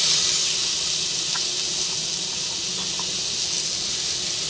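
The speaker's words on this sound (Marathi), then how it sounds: "त्यात टाकते कांदे आणि टमाटर आणि सुका खोबरा पण त्यातच आहे" Onions, tomatoes and dried coconut sizzle steadily in a hot pan, a continuous close hiss of frying with no talk over it.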